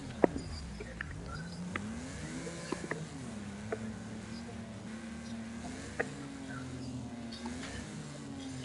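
A race car engine in the Wreckfest video game hums and revs with a sustained, wavering drone, rising and falling in pitch. Small clicks and ticks are scattered across it, and there is no talk.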